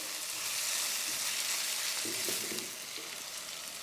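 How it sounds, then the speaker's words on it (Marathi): Ginger garlic paste fries in a hot pan with a steady, loud hiss and sizzle, joined by a few soft scraping stirs partway through, with no talking. "पेस्ट पण आपल्याला एक ते दोन मिनटं अशी चांगली मस्त फ्राय करून घ्यायची परतवून घ्यायची"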